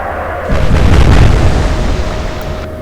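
Naval gunfire from warships in the Atlantic Fleet strategy game: a single heavy, sustained low boom swelling up and rolling on for about two seconds, loud and close, with no talking over it.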